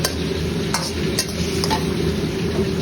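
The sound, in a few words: chicken stirred into butter garlic sauce in pan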